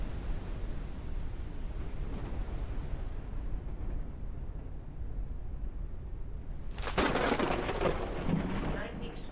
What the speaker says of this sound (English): That certainly sounds like a storm.